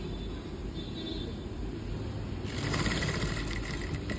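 A sewing machine stitching a sweetheart neckline, a steady low mechanical whir that grows a little louder and busier partway through, running close with no talk.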